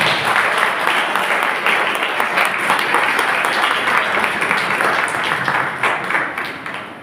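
Sustained applause from a crowd, dense and steady clapping for about seven seconds before tapering off near the end.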